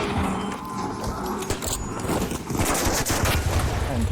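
Explosion in the video game Arc Raiders, a dense, loud burst of crackling blasts and rumbling noise that fills the whole clip, heavy and continuous like rapid gunfire mixed with detonations.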